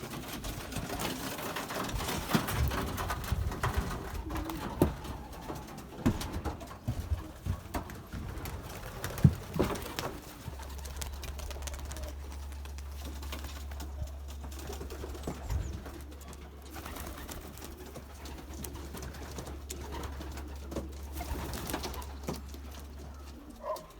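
Young Belgian racing pigeons coo in a loft amid rustling and handling noise, with a steady mechanical hum running beneath the second half.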